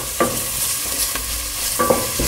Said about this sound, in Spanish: Ya nuestros ajos están dorándose